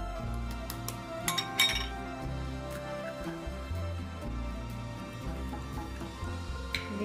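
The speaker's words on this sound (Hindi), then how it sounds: "दो अंडे हैं, इनको हम फोड़ लेंगे" Two raw eggs cracked against a bowl in a home kitchen while making egg Manchurian, giving a few sharp clinks and taps early on, then a quieter stretch with one last tap near the end.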